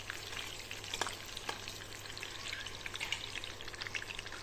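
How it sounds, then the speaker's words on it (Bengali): Eggs lightly frying in oil in a pan, a soft steady sizzle dotted with sharp pops and crackles, fairly quiet and close, with no voices. "এখন ওই তেলের মধ্যে আমি ডিমগুলোকে একটু হালকা করে ভেজে নেব।"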